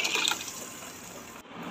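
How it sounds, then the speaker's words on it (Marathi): A splash of water poured into a pot of Maharashtrian taakachi kadhi made with buttermilk and besan, a short hissing gush that fades after about a second. "थोडं पाणी टाकून देऊ"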